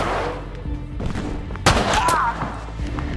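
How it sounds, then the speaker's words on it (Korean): New Year fireworks go off during a film scene, sounding as scattered sharp pops and bangs with one louder crack midway, layered over music and other sounds of the film. "새해를 알리는 폭죽이 터지고"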